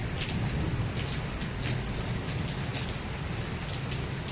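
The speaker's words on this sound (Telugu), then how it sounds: "వర్షం కూడా బీభత్సంగా పడుతుంది, చూడండి ఎలా పడుతుందో." Heavy rain pours down at night in a village near Nellore during a thunderstorm, a dense, constant hiss of drops drumming on surfaces with faint splatters, steady throughout and with no voices.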